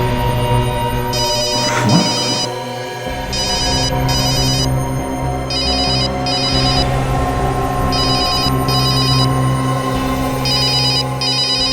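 A phone rings with repeated electronic trill bursts in a steady pattern, loud and close, over a low background hum.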